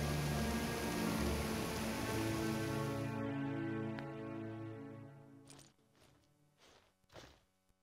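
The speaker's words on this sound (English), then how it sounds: "the rain's got to stop now" Steady rain falls in The Witcher 3: Wild Hunt, a dense continuous wash for the first few seconds that thins out, leaving a few scattered soft hits near the end.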